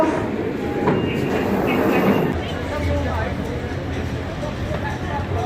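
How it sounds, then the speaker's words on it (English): London Underground train at Oxford Circus station: a loud, close rumble of the carriage and wheels, a heavier surge in the first two seconds, then a steady low drone with faint rail clatter and some background voices. "So here we are at Oxford Circus Underground Station."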